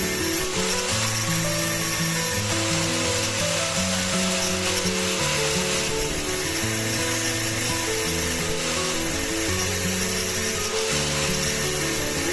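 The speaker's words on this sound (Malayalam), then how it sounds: "ഒരു കട്ടർ ഉപയോഗിച്ചിട്ടാണ് നമ്മളിവിടെ ഗ്രൈൻഡ് ചെയ്യുന്നത്." A cutter grinds down a brass tap spindle, a loud, continuous whirring rasp with a droning tonal hum that wavers in pitch as pressure changes, close up and steady throughout with no voices.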